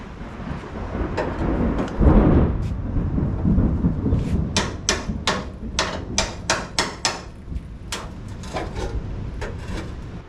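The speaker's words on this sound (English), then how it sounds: "Just using the chisel until it's not coming up." Sharp metallic hammer strikes on a chisel ring out against a Chevelle's trunk floor metal at spot welds, first sparse and then in a quick, steady series of loud, close blows.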